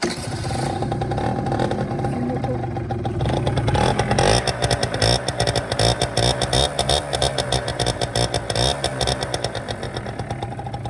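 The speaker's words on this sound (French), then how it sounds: "Vous appuyez là, et si le scooter est froid, coup d'accélérateur." A cold scooter engine fires up and settles into a steady, loud idle with a rapid putter, a few throttle blips raising the pitch.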